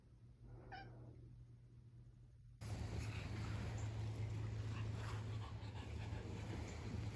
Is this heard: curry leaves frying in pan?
no